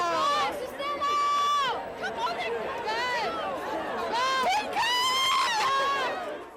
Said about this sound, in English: There's the roar from the crowd.